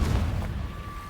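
A Confringo fire spell blast cast in Hogwarts Legacy at a rock, a single dense low boom that rolls into a fading rumble over about a second, with a thin tonal ring trailing beneath.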